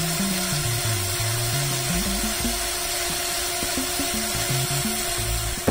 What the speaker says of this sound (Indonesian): Jadi gue bor dulu guys, nanti gue pakai screwdriver.